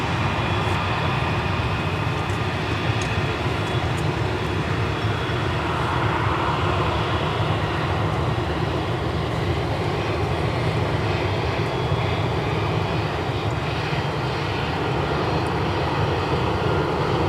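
A Delta Airbus A330-200 airliner at Minneapolis–St. Paul Airport sends out a loud, steady jet engine roar that holds evenly for the whole stretch, with no voices over it.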